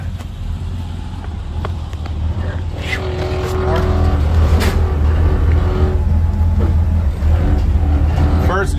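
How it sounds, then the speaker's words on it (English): The Mystery Machine van rolls along on a drive, a continuous engine rumble that grows louder and fuller partway through, with voices and cheering over it. "First drive in the Mystery Machine."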